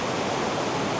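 Steady broadband rush of a waterfall in the Yorkshire Dales, a close, continuous hiss of falling water with no voices, heard only briefly.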